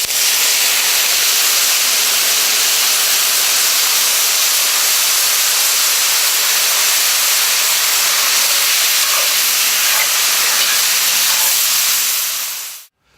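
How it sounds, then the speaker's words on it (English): A hot pan deglazed with Big Apple wine from Wolfer Estate, a Long Island wine, gives off a loud, steady steaming hiss that holds constant without a break and then cuts off abruptly. "you have to deglaze the pan with some Big Apple wine from Wolfer Estate in Bridgehampton, New York"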